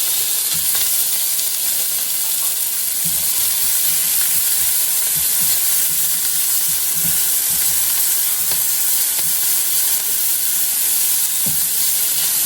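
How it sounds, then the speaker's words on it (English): Peppers and onion sautéing in a pan, a loud, steady hiss of sizzling oil throughout with a few soft stirring knocks underneath. "You just want to saute this 2 or 3 minutes until your onions start to become translucent and your peppers start to soften"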